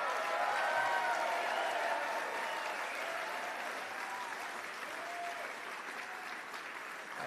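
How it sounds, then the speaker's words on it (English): A banquet audience at an anniversary gala applauds a speech, a steady wash of clapping held at a moderate, slightly distant level across the whole stretch. "I didn't get any of this applause."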